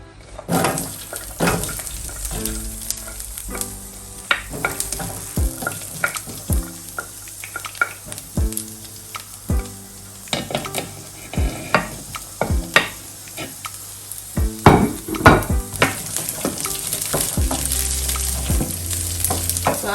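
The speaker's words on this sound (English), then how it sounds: "the oil is a little bit hot, so I'm gonna go ahead and add my green beans" Green beans stir-fry in hot oil for a Thai-style rice bowl, a constant close sizzle punctuated by frequent rhythmic spatula scrapes and tosses against the pan.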